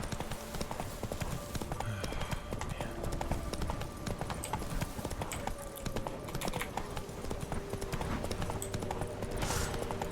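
Geralt's horse Roach walking in The Witcher 3, steady close clip-clopping hooves in an even rhythm throughout, with a voice talking over it at times.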